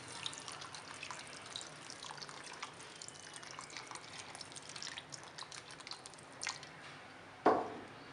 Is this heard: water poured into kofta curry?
yes